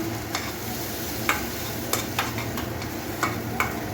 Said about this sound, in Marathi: अशी पेस्ट तयार करून घेतलेली ते घालून घेत आहोत. चांगले परतून घेऊया.